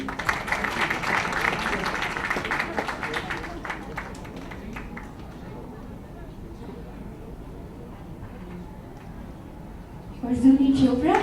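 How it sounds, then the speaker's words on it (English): Audience applause at the launch of the book The House That Spoke, a crowd clapping strongly at first and then thinning to scattered claps under a speaker's voice, with a louder burst near the end. "please clap, everyone."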